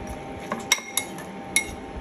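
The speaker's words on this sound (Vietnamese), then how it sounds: "Và sau đó thì mình trộn đều lên" A utensil stirs chili sauce into a tuna marinade in a bowl, giving a few sharp clinks against the dish spaced irregularly over two seconds, close and quiet, with no talk.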